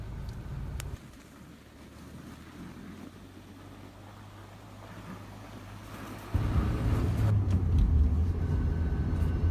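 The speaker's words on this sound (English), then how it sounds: "we're just accelerating up to speed here in the Corolla" A 1995 Toyota Corolla picks up speed on the road, its low engine drone and road rumble steady at first, then swelling louder in the last few seconds as the car pulls harder, with wind noise over the microphone.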